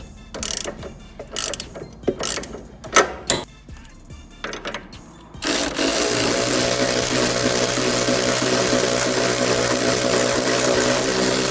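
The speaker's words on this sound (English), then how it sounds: "you need to take off this bolt right here that's on your rearward control arm" Ratchet wrench working on a rearward control arm bolt of a 2012 Dodge Charger: several sharp metallic clicks and clanks at first, then a steady continuous mechanical whir that runs to the end.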